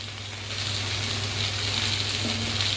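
Coriander powder sizzles in hot oil for a katla fish curry with taro, making a soft, steady, close hiss and fizz with no voices over it.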